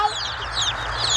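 Chicks of the New Jersey Giant and Rhode Island Red breeds chirp in a steady, busy chorus of high peeps over a faint background murmur. No one speaks.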